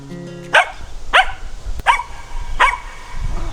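Dogs bark in four sharp, evenly spaced bursts about half a second to a second apart, close and fairly loud over a quiet outdoor background with no talking.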